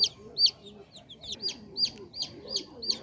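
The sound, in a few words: native (desi) chicken chicks chirping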